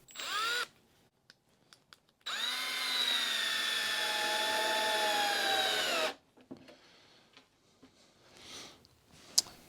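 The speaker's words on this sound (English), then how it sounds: "Get some screws in." A power drill runs in two bursts while driving screws into a Husky adjustable-height workbench cabinet. There is a short whir first, then a longer steady whine that slows as each screw seats, followed by light clicks and handling noises.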